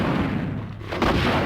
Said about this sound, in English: Can I hit this guy with the launcher?